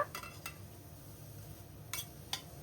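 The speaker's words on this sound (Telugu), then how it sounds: "ఇప్పుడు ఉల్లిపాయల్ని ఫ్రై చేసుకోవాలి బాగా" Onions with slit green chillies and curry leaves frying in a pan, several sharp spatula clinks and scrapes against metal over a faint, soft sizzle, close and quiet, no talking.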